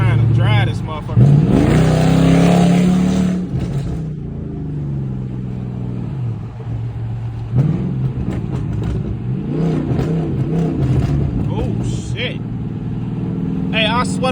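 A Chrysler 300C Hemi with a five-speed transmission rumbles and accelerates from inside the cabin, its engine note surging and rising in pitch over several stretches while someone talks over it.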